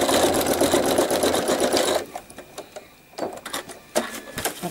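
A sewing machine free-motion quilting curves across a quilt runs in a dense, steady whir for about two seconds, then gives way to a few short, scattered bursts of stitching.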